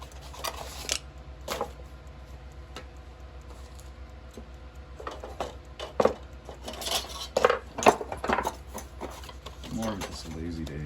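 A knife carves into a wooden figure in a workshop with intermittent scraping and shaving strokes, some quick and sharp, others longer rasping cuts, close by and fairly quiet against a low steady hum.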